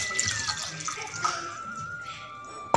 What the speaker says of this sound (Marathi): मी थोडंसं पाणी सुद्धा घातलं त्याच्यात।